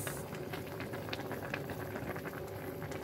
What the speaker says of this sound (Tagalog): Kumukulo-kulo na siya.